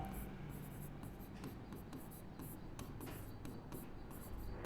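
Pen or chalk scratches out a math solution in a quiet classroom-style setting, faint irregular strokes and taps over a low background hum, with no voice heard.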